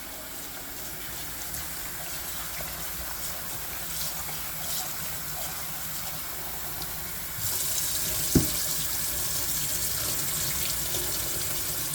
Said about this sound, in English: Now I'm just going to give it a good rinse and do the final cleaning.